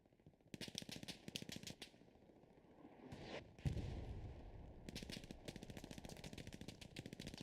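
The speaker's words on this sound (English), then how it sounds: "Machine gun from Panther peppering" Machine gun from a Panther tank in Hell Let Loose rattles in rapid bursts, several long strings of shots separated by a short gap and a single heavier thump, fairly distant and crisp.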